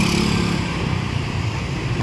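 Motorcycle passing close by on a subdivision street, a loud steady engine roar filling the whole moment with no talking over it.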